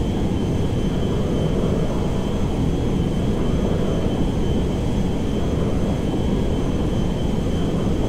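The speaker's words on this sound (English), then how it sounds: "Okay, this is a big plane." A large jet plane in Grand Theft Auto 5 roars continuously with a loud, dense, rumbling engine drone that holds steady throughout.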